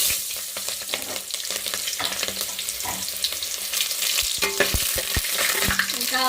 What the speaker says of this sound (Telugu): నూనె అయితే బాగా వేడింది కదండి ఉల్లిపాయలు వేసుకుందాం